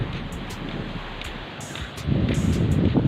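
Wind blows steadily at the seaside, a rushing broadband noise buffeting the microphone, swelling louder toward the end with no voices.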